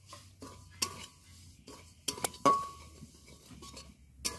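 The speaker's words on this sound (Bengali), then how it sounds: "সুজিটা আমি একদম শুকনো খোলায় ভেজে নেব" Semolina is dry-roasted in an oil-free pan and stirred with a metal spoon, giving quiet scraping broken by sharp clinks and taps against the pan at irregular intervals.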